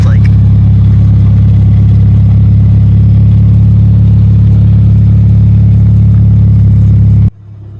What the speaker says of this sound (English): for the exhaust, that's what it sounds like